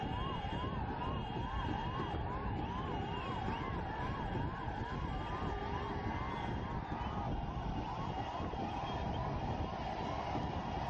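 Ambulance siren wailing in a crowded Mumbai street, a steady repeating yelp riding over constant crowd and traffic noise, continuous and fairly prominent throughout.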